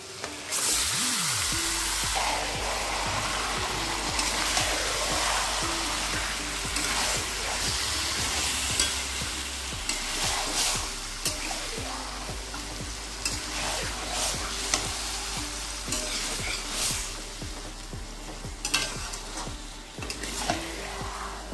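Goat meat sizzles and fries with browned onions in a pan while being stirred steadily, a continuous close hiss broken by frequent scraping and clattering of the spoon, with no voices.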